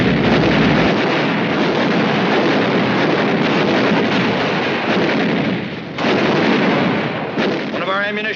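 An ammunition dump explodes in WWII Pacific archival footage from the Iwo Jima campaign. A loud, sustained roar of blast and rumble fills the scene, with one brief dip before the roar swells again.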